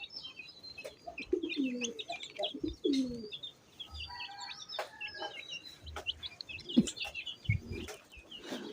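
Pigeons and pigeon chicks coo softly in a coop, with low throaty coos and clucking calls. Other birds chirp around them, and faint rustling and scuffling come through at close to middle distance.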